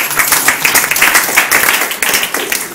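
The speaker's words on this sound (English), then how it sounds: "I think they deserve a round of applause right now." A conference audience at a Toronto UJA gala event claps loudly and close: crisp, rapid individual hand claps build into a sustained round of applause for under three seconds, with no talking over it.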